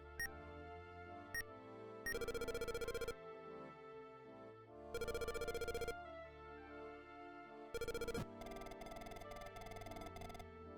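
Electronic phone ringing from Yuji Horii's retro mystery video game, three bursts of bright chiptune ringing over a looping game melody, with no voices.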